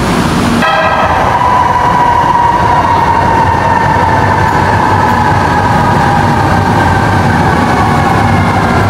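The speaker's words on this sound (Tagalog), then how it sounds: "finally nandito na kami sa loob at sasakay na sa napakahabang LRT" Inside a long LRT light rail train, a loud, continuous rumble of wheels and motors starts abruptly and runs steadily throughout, with a sustained whining tone over it.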